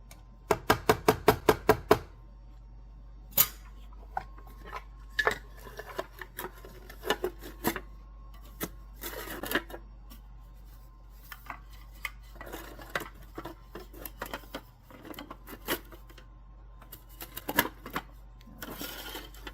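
Peach bread batter, peaches not yet added, is mixed in a bowl: a quick burst of rhythmic clacks opens, then intermittent scrapes and knocks of the utensil against the bowl, close and fairly quiet.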